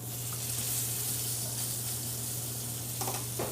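Steak searing in a pan of hot canola oil, a steady close sizzle and crackle running throughout, with a few brief louder spatters near the end.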